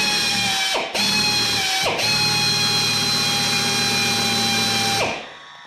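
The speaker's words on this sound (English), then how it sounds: "I just use a simple high speed countersink tool, half inch." A half-inch high-speed countersink tool cuts a chamfer on the end of a Savage prefit 6.5 PRC rifle barrel turning in a lathe, a loud steady whirring hum broken by two brief dips before spinning down.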